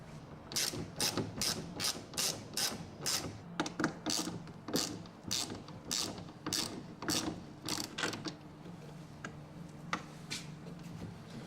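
A ratcheting spanner tightens bolts on a canoe seat in quick bursts of crisp, close clicks, repeating rhythmically with short pauses and fading to sparser ticks toward the end.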